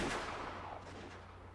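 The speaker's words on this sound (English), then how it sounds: "Gunfire." A single loud gunshot cracks and then trails off into a long, echoing rumble with no voices present.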